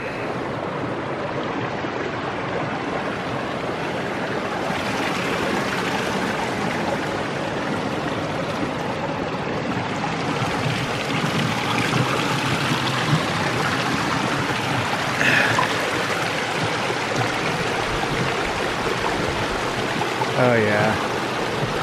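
Mountain stream at dusk near Hayden Lake, a steady broadband rush of flowing water close by, with a brief exclamation from a person over the water.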